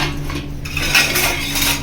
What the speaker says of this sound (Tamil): சமையல் மாஸ்டர் கரண்டி எடுத்துட்டாங்கடா